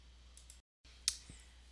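A single sharp mouse click on a computer while operating a data integration software interface, brief and close against a quiet background.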